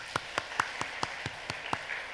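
A church congregation at a Korean Presbyterian Thanksgiving service applauds after an infant baptism, with faint, steady, evenly spaced claps repeating about four times a second, heard from a distance.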